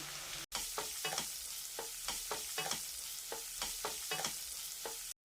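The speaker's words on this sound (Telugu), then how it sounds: "వెల్లుల్లిపాయలు పచ్చిమిరపకాయలు కరివేపాకు అంతా వేగిపోయినాయి ఇప్పుడు అందులో మనం కట్ చేసి పెట్టుకున్న తోటకూర వేసుకోవాలి" Amaranth leaves frying with garlic, green chilies and curry leaves in a pan, a steady sizzle broken by rhythmic, evenly spaced scraping strokes of a spoon, close up, without speech.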